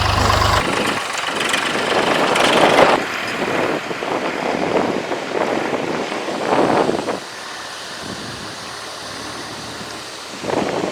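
A large tractor engine idles with a steady low rumble, and gusts of wind buffet the microphone now and then.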